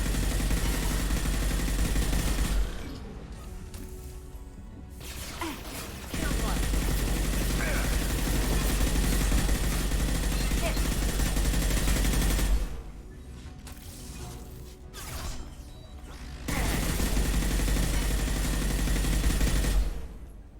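Gunfire in the video game Mass Effect 2, bursts of dense firing in long stretches broken by short lulls, steady and loud throughout, with a voice talking over parts of it.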